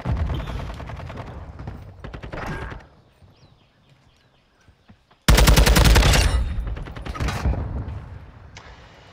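Sniper gunfire in an online shooter video game: loud game sounds with rapid shots, a quiet lull, then a sudden blast of heavy firing that carries on loudly.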